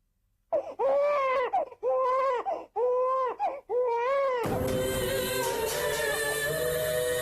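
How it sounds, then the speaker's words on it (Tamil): An infant cries in four or five loud, rhythmic wails with short gasps between them, close and clear, before the scene cuts to a harsh, noisy background. "எனக்கு குழந்தை அழற சத்தம் கேக்குது."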